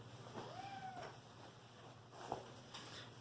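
A house cat gives a single faint meow near the start, followed by a few soft bumps and rustles in a quiet room.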